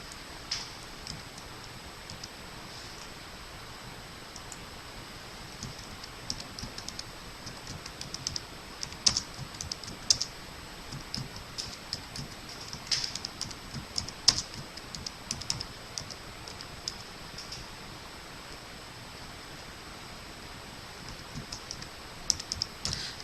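Continuous typing on a computer keyboard during a tutorial, with soft, steady key clicks and occasional louder taps in irregular bursts, close and quiet with no talking.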